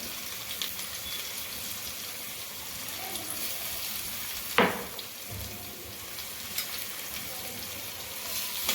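Tomatoes with finely chopped onion and spring onion frying in a hot pan for South Indian sambhar, a steady sizzling hiss broken by one sharp loud burst midway, no voices.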